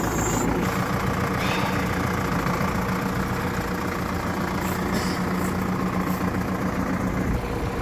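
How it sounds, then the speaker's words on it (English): A lawn mower engine runs at a steady idle, loud and close, with an even droning rumble and faint knocking throughout and no voices. "That's it, the mower's on."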